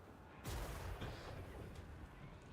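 A glitched video game effect sets off a continuous rumbling, explosive roar that begins abruptly about half a second in and carries on steadily, loud and dense, to the end.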